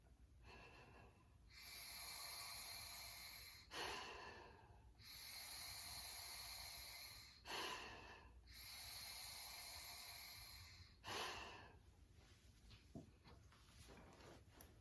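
Slow, deep breaths during a low back stretch: three long airy inhales or exhales, each lasting about two seconds and separated by short sharper sniffs, close and quiet, with no talking.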